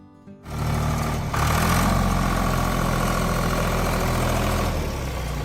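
A 1976 John Deere 2040 tractor engine starts up, then runs at a steady, loud, close idle with a dense mechanical rumble that holds evenly throughout.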